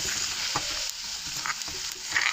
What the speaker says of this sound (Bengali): খুবই আস্তে আস্তে এই পিঠাটা ভাজতে হবে